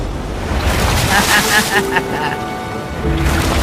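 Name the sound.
big ocean wave crashing on island shore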